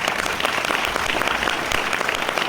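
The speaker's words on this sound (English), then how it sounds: "So can we give them another round of applause?" An audience at a sustainable business talk gives a steady, dense round of applause. The clapping is sustained and even throughout, fairly loud and close, with no speech over it.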